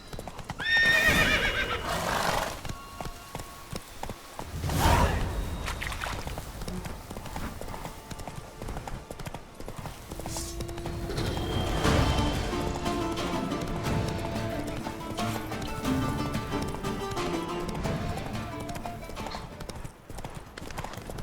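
The horse Roach gallops in The Witcher 3, with rhythmic hoofbeats that are loud and close, a whinny near the start and another around the middle, under game ambience and brief speech.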